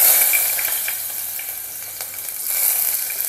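Cumin, mustard seeds and chopped onion fry in hot oil for a Maharashtrian masala brinjal curry, giving a close, steady crackling sizzle with a few sharper pops and no talking.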